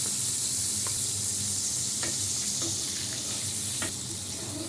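Fenugreek greens frying in butter and oil, a constant close sizzle with a few sharp clicks and scrapes as the greens are stirred around the pan.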